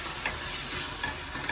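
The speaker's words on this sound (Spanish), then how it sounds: "Esto sigue fuego fuerte, veis cómo va friendo" Onion fries in a pan over high heat, a bright, dense sizzle with stirring scrapes, close and continuous with no talk.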